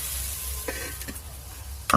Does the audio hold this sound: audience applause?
no